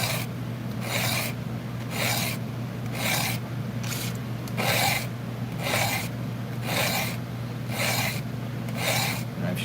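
A blade is sharpened with a file in a run of regular rasping strokes, about a dozen close scrapes over a faint steady hum, with no talk.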